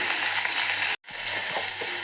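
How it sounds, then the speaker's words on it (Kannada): Chopped tomatoes tipped into a pan of frying onions for a Mangalore-style drumstick leaf dry curry, giving a steady close sizzle with a brief silent cut midway before the frying resumes. "ಟೊಮೆಟೊನ ಹಾಕ್ತಾ ಇದ್ದೀನಿ ನಾನು"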